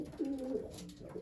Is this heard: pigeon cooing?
yes